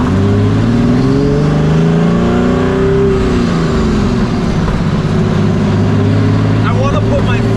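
Turbo diesel hot rod engine revving hard up to the rev limiter, a loud, sustained, rising engine roar heard from inside the car, with voices talking under it.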